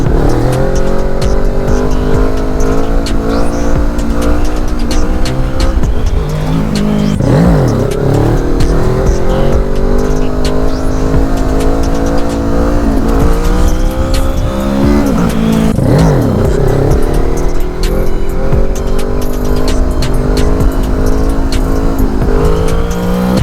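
Kawasaki Z650 small twin-cylinder motorcycle accelerating hard from low revs, a loud continuous engine note rising and falling through gear changes, close and steady throughout with no talk.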